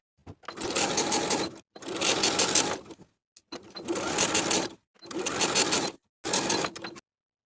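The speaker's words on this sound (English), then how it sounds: "Edge stitch along the inner folded edge of the placket from the top, once again stopping 3 inches from the edge, backstitching to secure." Sewing machine edge stitching along the folded inner edge of a shirt jacket placket, running in five close, steady bursts separated by short pauses, with no talking.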